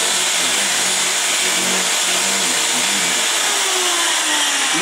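Hand drill boring a hole, a steady loud high-pitched whir holding continuously throughout with a slight falling whine near the end, no talk over it.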